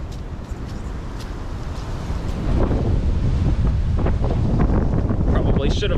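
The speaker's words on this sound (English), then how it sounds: "I'm gonna lose it on one of these gusts of wind." Strong gusts of wind rumble and buffet the microphone steadily outdoors on a windy day in Indiana, growing louder partway through, with a faint voice underneath.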